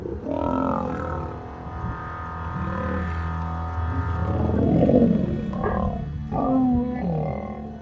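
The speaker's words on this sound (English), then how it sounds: "He had a mouth full of lion and he was roaring." A lion roars repeatedly during a fight, with deep, throaty bellows and growls rising and falling close by and loud, filling the whole stretch without any talk.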